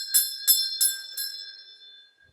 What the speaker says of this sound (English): So I ring the bell once again.